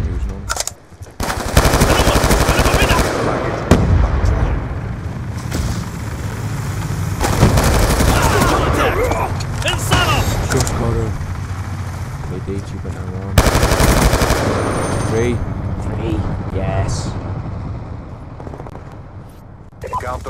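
Rapid machine gun bursts and explosions fill a video game battle, loud and nearly constant, with players talking excitedly over the gunfire.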